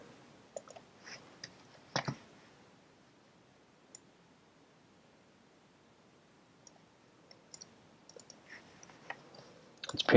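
Computer mouse clicking during 3D design work: a few faint, sparse, sharp clicks spread through a quiet room, with a brief cluster near the end.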